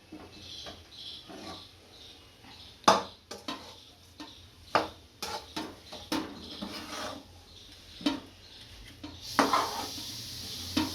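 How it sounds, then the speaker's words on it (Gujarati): Irregular clinks and scraping of a utensil against a metal pan as a date mixture is mixed, with soft mushy stirring sounds in between, close and fairly steady. "નીચે ઉતારી અને બધો સારી રીતે હાથથી ભેળવી નાખશું"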